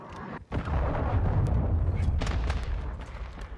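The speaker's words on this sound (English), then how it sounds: "Friendly cruise missile inbound." A cruise missile strikes in Call of Duty: Modern Warfare 2 multiplayer, producing a heavy, sustained explosive roar with deep rumbling low end, followed by scattered bursts and crackles that persist across the whole stretch without fading.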